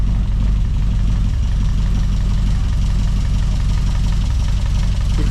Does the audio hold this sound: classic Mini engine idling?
yes